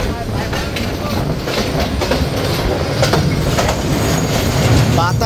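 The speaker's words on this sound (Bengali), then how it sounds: "আমাদের ট্রেনটি এই মুহূর্তে প্রবেশ করছে তিস্তা নদীর ওপর নির্মিত রেলওয়ে সেতুতে।" The Korotoa Express crosses the railway bridge over the Teesta river, a loud, close, continuous rattling roar with clattering wheel rhythm and thin metallic squeals, heard from inside the train.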